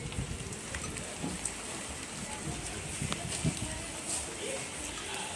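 Heavy rain falling in a home courtyard: a dense, steady hiss of drops striking the ground and surfaces, with a few louder splashes, heard close and continuous throughout.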